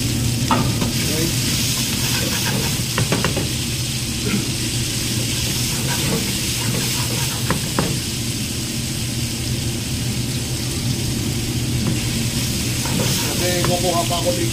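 Celery and carrots sizzle and hiss steadily in a hot pan as they are stir-fried for residents' supper, with occasional stirring clatter and a few brief scrapes throughout.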